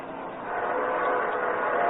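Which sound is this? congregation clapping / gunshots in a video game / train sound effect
train sound effect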